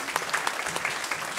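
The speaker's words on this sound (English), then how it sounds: "So really a round of applause for all these conductors out here." An audience claps steadily at a seventh grade school spring concert, a brief, even patter of many hands at moderate volume.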